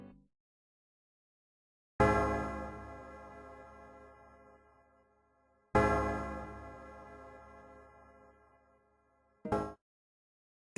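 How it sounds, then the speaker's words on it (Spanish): A deep bronze bell tolls slowly in Pokémon HeartGold and SoulSilver, each strike ringing out and decaying over several seconds, with a third strike cut short at the end. "el sonido de una gruesa campana de bronce comenzó a sonar lentamente"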